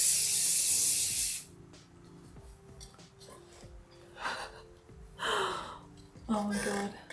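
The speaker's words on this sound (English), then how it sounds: "Last bit of a spray to keep it all in, and then I'm going to spray, flip my hair and spray at the top." Hairspray aerosol sprayed over tight curls made with a curling wand, a loud hissing burst at the start followed by several shorter spray bursts, with some breathing between them.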